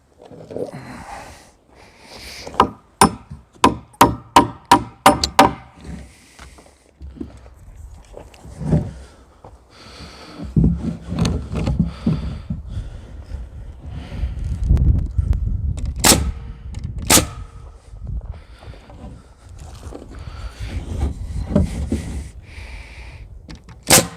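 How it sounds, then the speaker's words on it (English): A quick series of sharp hammer blows driving nails into plywood sheeting on a shed's framed walls, then scattered louder strikes amid shuffling and knocking work sounds. "Find my hammer and drive those up."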